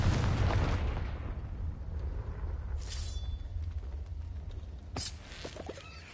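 A Confringo blasting spell goes off in Hogwarts Legacy, opening on a heavy, rumbling explosion boom that decays into a low roaring tail, followed by a couple of brief sharp bursts and crackles a few seconds later, with no talk.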